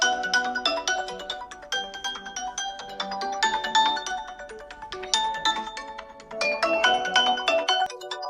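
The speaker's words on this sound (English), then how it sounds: "Now let's listen to the Honor ringtone in the sound section." An Honor 500 Pro phone plays its ringtone loudly and up close: a bright, plucked melodic pattern that repeats in phrases with no talking over it.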